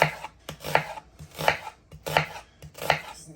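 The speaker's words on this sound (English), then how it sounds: "Choppity chop chop. I'm just dicing it." A knife dicing vegetables on a cutting board for beans and rice, sharp rhythmic chops in small clusters roughly every half second, close and clear, with no talk.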